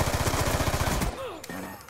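Rapid shotgun fire in a sniping video game crackles loudly in a dense burst for about a second, then cuts off into quieter game sounds and a short tonal sweep.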